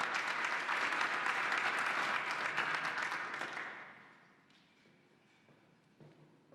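Audience applause at a quarterly membership lunch, loud and sustained for several seconds before fading out to a quiet room with a few scattered claps.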